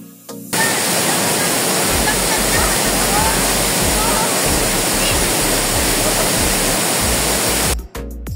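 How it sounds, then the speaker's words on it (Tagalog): Hinipaan Falls roars with a dense, loud rush of falling water heard up close, starting abruptly after a brief quiet moment and holding steady before cutting off near the end. "nakarating din sa Hinipaan Falls"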